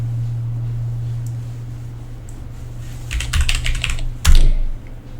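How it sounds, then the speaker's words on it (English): Keys clatter on a computer keyboard as a command is entered, a cluster of quick taps near the end over a steady low electrical hum, with no one speaking. "Now we would type the command start."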